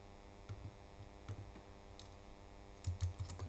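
A password being typed on a computer keyboard, a few soft scattered keystroke clicks in short irregular bursts, close and quiet.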